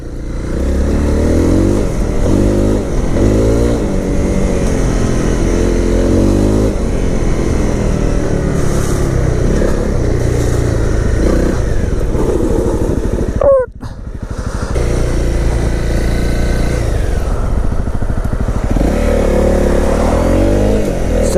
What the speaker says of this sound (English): This bike gets up to speed, no problem at all.